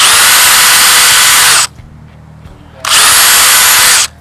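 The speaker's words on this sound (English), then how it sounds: "we would always recommend a 1/8 inch pre-drill at that 2¼ mark from the end" A power drill whirs loudly at high speed for about a second and a half while pre-drilling a 1/8-inch hole in a wooden joist, stops briefly, then spins up again for another short burst.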